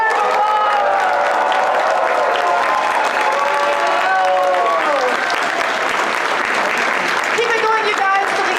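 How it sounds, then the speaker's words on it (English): Sustained crowd applause with some cheering at a Red Dead Redemption cast panel, loud and unbroken across the whole stretch while voices carry over the clapping. "please give a huge round of applause for two of my favourite people"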